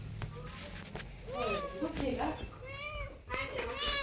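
A cat meows several times in a home, with rising and falling cries mixed in among people talking nearby.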